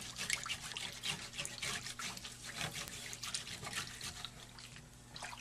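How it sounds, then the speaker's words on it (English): A circular saw blade is scrubbed wet with laundry detergent to remove pitch buildup, giving faint, rhythmic sloshing brush strokes over a steady low hum, with no talking. "I'll go ahead and scrub that now as well for the back side"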